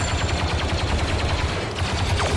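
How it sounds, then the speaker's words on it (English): Machine gun fire rattles in a Star Wars Battlefront 2 match, a rapid continuous stream of loud shots with dense rhythmic thumps that last the whole stretch, and no voice over it. "They have a machine gun now?"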